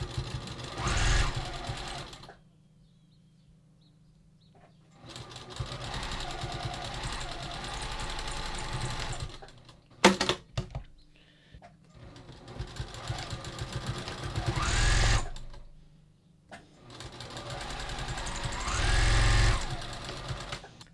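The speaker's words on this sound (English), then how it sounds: "So I'm just going to go ahead and sew my side seams." A sewing machine stitching the side seams of a cowl-neck dress, running in several bursts of steady whirring and rapid needle clatter, separated by quiet pauses.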